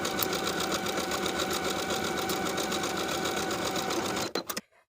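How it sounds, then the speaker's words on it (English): A sewing machine edge stitches a jumpsuit hem along the inner fold, with a steady, close, continuous whirring run that cuts off abruptly near the end with a few faint clicks. "Edge stitch the hem in place all the way around along the upper inner fold."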